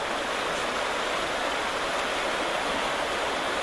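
A swollen stream or river rushing far below after heavy rain, a steady broadband roar of flowing water with no breaks and no voices.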